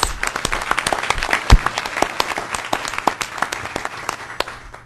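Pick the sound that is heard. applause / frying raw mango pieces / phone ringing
applause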